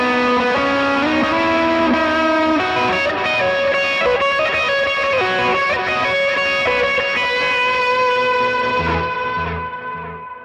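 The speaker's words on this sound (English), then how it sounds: "here's what that sounds like with reverb and delay if I had to do a really big line." A big electric guitar lead line rings out through a pedalboard with reverb and delay, sustained notes and bends trailing into echoing tails, loud and alone before fading at the end.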